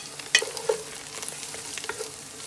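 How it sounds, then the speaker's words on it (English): Garlic and onion frying in a pan for a Punjabi masala mutton curry, a soft steady sizzle broken by a few sharp stirring clicks and scrapes, close and fairly quiet, with no voices. "Then fry 2 minutes."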